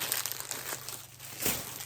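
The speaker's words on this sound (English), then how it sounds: "Sorry for the crinkling." Plastic wrapping around newly bought linen fabric being handled, crinkling and crackling in short uneven bursts, close and fairly soft, with a louder crunch near the end.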